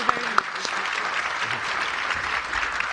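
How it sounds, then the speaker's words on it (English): An audience at a Reuters news conference applauds news creators with steady, wide crowd applause, a continuous even wash of many hands throughout, with a couple of louder nearby claps. "Big round of applause, please, for our news creators today."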